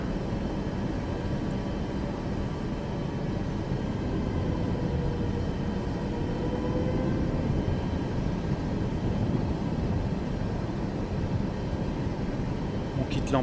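A Boeing 737 MAX 8 taxis in a flight simulator game, giving off a steady, loud engine rumble and whine that stays even throughout, with no voices.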